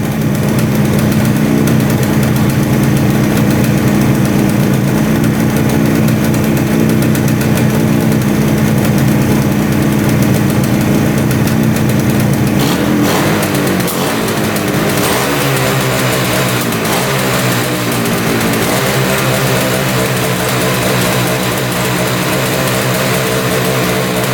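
A 500cc two-stroke motorcycle engine that sat unused for 22 years idles at around 1500 RPM, a loud, steady, buzzy drone that runs throughout with a slight shift in tone midway and no talking.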